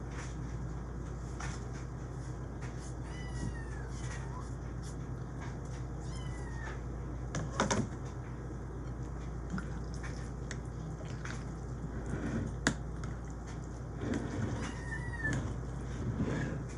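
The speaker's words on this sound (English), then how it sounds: "My kittens are acting wild." Several faint, high-pitched kitten meows come and go over a steady low hum, with a few soft knocks and taps in between.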